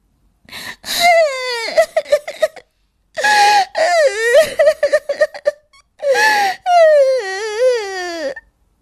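Someone cries and wails in long, wavering sobbing bursts with short pauses between, loud and close, in a forest.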